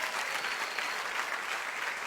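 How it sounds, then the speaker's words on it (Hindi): A studio audience at a TV dance competition for young performers applauds with steady, continuous clapping that stays fairly soft and even throughout. "जोरदार तालियां हमारे डरपोक मर्जी सर के लिए।"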